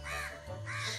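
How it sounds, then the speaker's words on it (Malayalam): Several crows caw in the background, two bursts of harsh calls with a short gap between them, steady and moderately loud with no talking. "കാക്കകൾ കുറേ ഉണ്ട് അതുകൊണ്ട് ഈ ബാക്ക്ഗ്രൗണ്ട് ശബ്ദമൊക്കെ ഇങ്ങനെ തോന്നുന്നേ"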